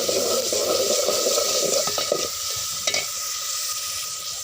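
Dried fish and raw garlic sizzle steadily in a hot pan, a dense close frying hiss with a few stirring scrapes partway through.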